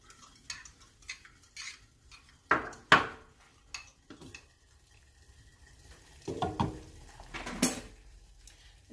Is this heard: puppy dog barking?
no